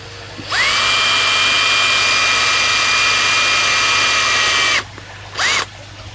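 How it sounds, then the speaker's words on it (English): Power drill boring into a coconut shell, a loud close high whine sustained for about four seconds, then a brief second burst after a pause. "Right, so we'll drill out these."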